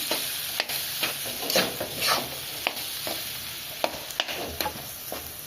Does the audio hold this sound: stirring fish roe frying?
yes